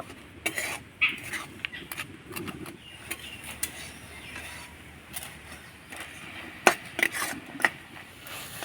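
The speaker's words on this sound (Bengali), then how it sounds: "এবার নাড়াচাড়া করে আমি পুরটা তৈরি করে নেব" Jaggery filling for pitha being stirred in a pan, with irregular metallic scrapes and clinks of the spoon against the pan at moderate volume over a quiet background, no speech.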